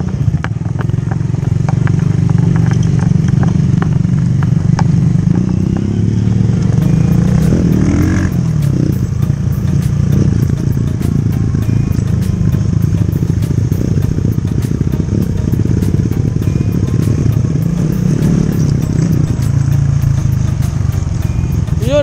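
A motorcycle rides steadily down a rural track toward a river at Sitio Tala, San Jose, Tarlac, its engine a loud, constant drone with occasional clatter, and voices talking faintly over it.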